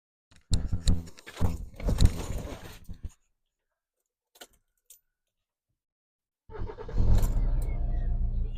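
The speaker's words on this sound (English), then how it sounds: "Just start the car up." Keys jangle loudly for a few seconds and then fall quiet before a Kia Sportage 2.0 CRDi KX-3 AWD diesel cranks and fires, settling into a steady, close, rumbling idle.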